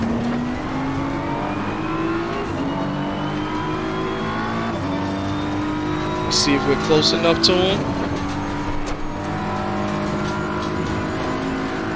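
Race car engine in a VR racing game revving and droning at high pitch, shifting through gears with a brief tire squeal and rising whine in the middle, while someone talks over it.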